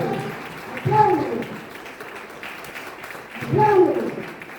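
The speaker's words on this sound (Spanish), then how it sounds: "aplaude, Señor, aplaude, aplaude" A church congregation applauds in a steady wash of clapping that swells twice, running under a loud voice preaching over it.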